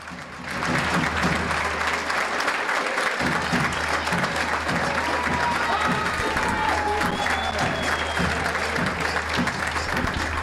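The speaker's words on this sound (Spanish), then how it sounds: "Y escuchamos los aplausos." A stadium crowd at an amateur football match in Argentina's Torneo Federal Amateur applauds as the substituted captain, number 10, leaves the pitch: steady, dense clapping with some cheering, loud and sustained throughout after a brief quieter start.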